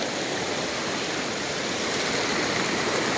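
Floodwater rising along a street on 15 August rushes in a steady, dense wash, a continuous near roar like a stream with no pauses and no voices.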